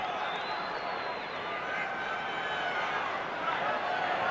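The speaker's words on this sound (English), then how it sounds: "Roar goes up from the crowd." A crowd roars at a 1993 rugby league semi-final between Canberra and St George, a broad sustained swell of stadium noise that rises slightly toward the end, with a commentator talking over it.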